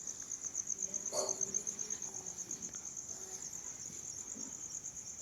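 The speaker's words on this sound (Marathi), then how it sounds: "फक्त रातकिड्यांचा फक्त आवाज येतोय." Crickets chirp in a continuous high, pulsing trill at night in a hushed village, faint and steady, with a soft distant knock briefly breaking the stillness.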